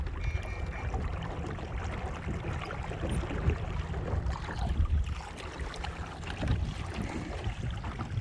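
A DIY trolling motor runs on a kayak out on the water, a steady low mechanical drone with water and light wind noise blended in, continuous and fairly close throughout.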